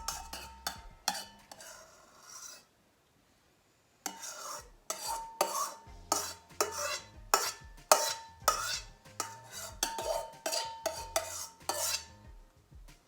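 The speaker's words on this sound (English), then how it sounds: "just with a spoon, just scoop it out onto your pie" A spoon scoops meringue onto a lemon meringue pie, making a steady run of quick scrapes and taps against the bowl after a short quiet pause. It sounds close and soft, and nobody speaks.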